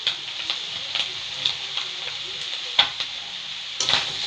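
An egg fries in a pan for homemade chow mein, a steady bright sizzle with scattered clicks and light scrapes, close and fairly loud, with no talking.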